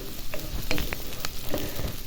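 Onions sizzle in a hot pan during home cooking of a fish and gourd dish, a soft steady crackle with a few sharp clinks and scrapes from stirring, no voices.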